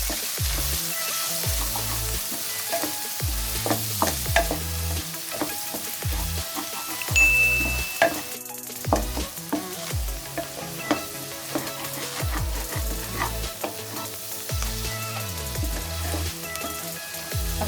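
Grated paneer and other ingredients get mixed in a pan, with repeated rhythmic scraping and stirring strokes over a soft sizzle and occasional metallic clinks of the spoon, close up and with no talking.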